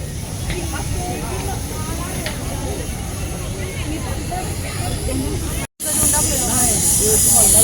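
A pressure cooker at a fair food stall vents steam in a steady, loud hiss that runs continuously, briefly cutting out before resuming more brightly at the end, with busy surroundings behind it.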